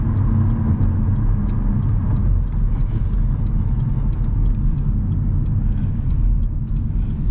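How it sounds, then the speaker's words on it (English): A car turns and accelerates during night driving, a steady, loud low engine rumble with road noise running throughout, rising slightly in intensity, with no talking. "check traffic and then make that nice turn, and then I accelerate"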